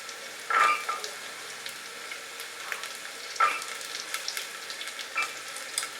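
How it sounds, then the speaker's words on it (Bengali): Ginger, raisins and green peas fry in a pan over medium heat, with a continuous soft sizzle and a few louder crackling bursts as the mix is stirred. "কড়াইশুঁটি আর কিশমিশ দিয়ে আমি এটাকে আরো 1 মিনিট ফ্রাই করব।"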